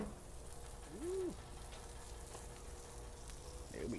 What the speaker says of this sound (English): Let's go ahead and flip this baby over.